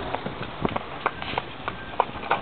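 A horse's hooves clip-clop at a steady walking pace on a hard village road, a series of crisp, moderately loud knocks with faint background noise.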